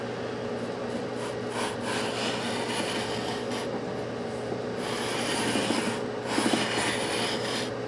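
Steady scraping strokes as a radius sanding block rubs along the frets of a Fender Stratocaster neck during fret levelling, a close, continuous abrasive rasp with slight swells in intensity and no talking.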